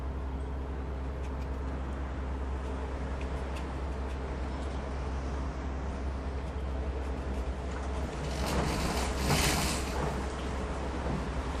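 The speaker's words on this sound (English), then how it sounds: "It's very windy outside." Wind blowing hard outdoors on an open hilltop landscape, a steady broadband rush with low rumbling buffeting against the microphone that swells into a stronger gust near the end.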